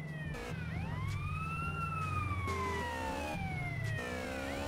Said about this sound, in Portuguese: Liga a sirene e acelera